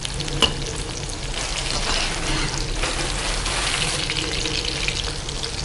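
Chicken 65 deep-frying in oil over a low flame gives a dense, continuous bubbling sizzle, close and fairly loud, with a faint tap near the start.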